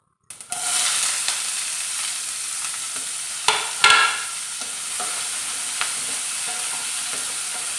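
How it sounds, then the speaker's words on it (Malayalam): Onion hitting hot oil with popped mustard seeds in a pan for a Kerala beetroot curry, a sudden loud sizzle that settles into steady frying hiss, with a couple of stirring scrapes partway through and no talk. "നമ്മുടെ സവോളയൊന്ന് നമുക്ക് ഒന്ന് വഴറ്റിയെടുക്കണം"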